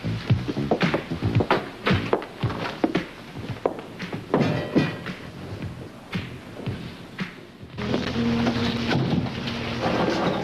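Heavy rain falling at night with a series of dull thumps and rumbles of thunder, irregular and fairly loud, ending in a steady hissing downpour.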